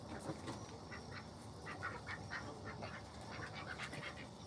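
Backyard ducks quacking repeatedly in short, scattered calls, faint and somewhat distant against a steady outdoor background hiss.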